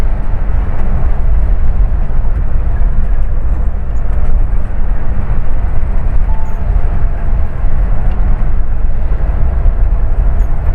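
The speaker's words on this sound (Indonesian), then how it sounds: "truk lagi pengangkut sayur." A vegetable transport truck rumbles past at night on a quiet mountain road in Central Java, a loud, steady low engine and road roar that holds throughout without clear rise or fade.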